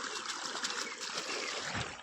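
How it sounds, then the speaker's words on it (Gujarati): Water gushing from a running motor pump outlet on a farm, a soft continuous trickling and splashing flow, fairly faint and steady, with no voices. "અહીંયાથી આવે છે પાણી"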